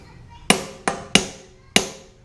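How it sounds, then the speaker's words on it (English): A hammer strikes a steel center punch into metal during a hot rod wagon spindle build, four sharp ringing metallic taps in an uneven rhythm, close and loud, each decaying quickly. "Then we'll take center punch and the hammer."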